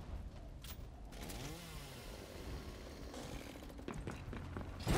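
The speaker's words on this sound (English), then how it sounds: "and then if we go for a chainsaw" Chainsaw execution in the tactical game Gears Tactics: a revving chainsaw whine rising and falling for several seconds, with grinding mechanical roar and a sharp burst at the end, no talking.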